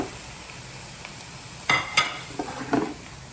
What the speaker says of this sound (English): Now I'm going to go ahead and add my ground beef.